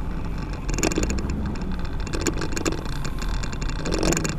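A struggling truck that has lost power drives along, its low engine rumble and road noise steady and close throughout.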